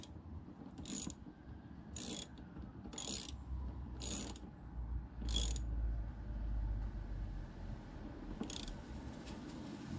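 A ratchet snugs a bolt on a Volvo P2-platform brake servo, giving five or six short bursts of rapid clicking at uneven intervals, close and crisp over a low hum, with no speech.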